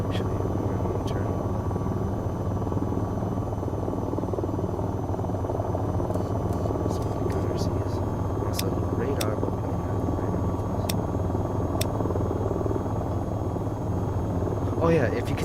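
A single-rotor helicopter in the flight game VTOL VR drones steadily and loudly throughout, a constant buzzing rotor hum with a few sharp clicks over it.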